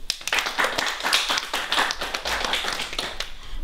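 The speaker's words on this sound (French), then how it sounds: "Certains ont été sélectionnés et je vous demande de les applaudir" An audience claps for selected young readers at a children's book event, steady close applause of many hands for a few seconds.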